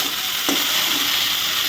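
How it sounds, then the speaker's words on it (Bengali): Okra frying in hot oil in a pan makes a steady, dense sizzle that stays even and close throughout, with a faint clink partway through. "এখানে ভেন্ডি ভাজা মোটামুটি হয়েই এসছে"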